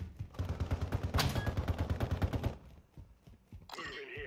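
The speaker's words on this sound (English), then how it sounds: "Is that a player shooting down there?" Rapid bursts of gunfire from a player shooting in the video game DMZ, a dense rattling volley lasting a couple of seconds, then scattered shots and a brief whooshing effect.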